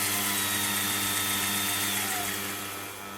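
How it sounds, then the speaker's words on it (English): Warco 18 GH metal lathe converted to belt drive, running steadily with a continuous mechanical hum and whine, loud and close, easing off slightly toward the end. "So that's the belt drive completed and running."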